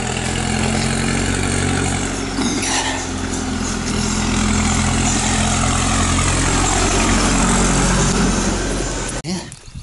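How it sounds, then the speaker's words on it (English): Big tractor approaching along a country road, a steady low diesel engine drone with a thick rumble, loud and near throughout, with brief voices over it before a sudden cut at the end. "there's a big tractor coming."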